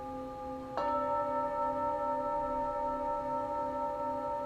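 A singing bowl for the throat is struck once and rings on in a steady, layered shimmer of sustained tones that hold at an even level without fading through the rest of the clip.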